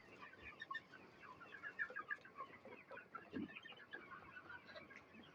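Desi hens clucking on a poultry farm, a dense steady chorus of overlapping clucks from many birds, fairly close, with no voices over it.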